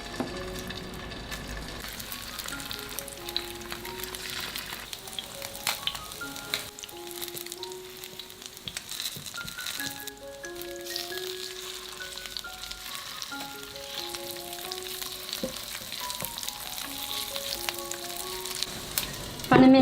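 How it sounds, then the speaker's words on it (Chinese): Grass carp fish cakes flavored with tangerine peel and scallion pan-fry in a little oil over medium heat, giving a steady close sizzle and crackle with occasional light stirring or shifting sounds. "用中火煎到2面金黄。"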